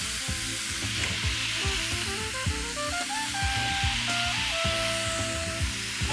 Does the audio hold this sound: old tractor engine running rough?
no